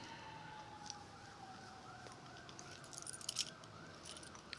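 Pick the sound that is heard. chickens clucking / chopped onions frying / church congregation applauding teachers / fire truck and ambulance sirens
fire truck and ambulance sirens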